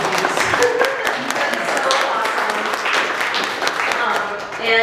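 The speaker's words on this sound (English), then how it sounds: "Give a round of applause for that, please." Audience applause at an exhibit opening, a dense, steady wash of clapping that holds for several seconds, with voices mixed in among the crowd.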